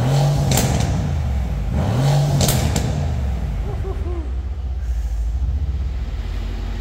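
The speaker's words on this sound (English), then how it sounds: "V8, you can hear the valves open up there into Sport Plus and race mode." A 503 bhp Mercedes-AMG C 63 S with a 4.0-litre V8 gives two sharp, loud revs with exhaust valves open, each rising and falling quickly, then settles into a deep, rumbling idle.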